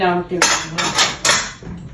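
Metal vessels clatter and bang in a home kitchen: a quick series of bright, loud metallic clashes and knocks, fairly close, with no talk over them.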